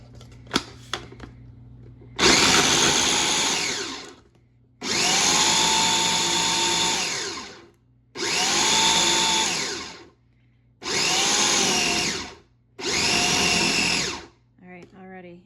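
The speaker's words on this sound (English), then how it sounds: "It's going in the food processor, and hopefully my old food processor can handle it" An old food processor grinds wild blueberries in five loud whirring bursts of a few seconds each, separated by short pauses, with steady motor hum between bursts and faint clicks at the start and end.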